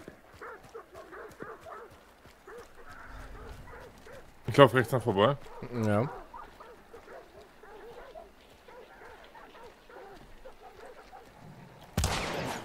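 Dogs bark in short bursts in the Hunt: Showdown shooter game, under someone talking in German, with game noise and a sharp burst at the end.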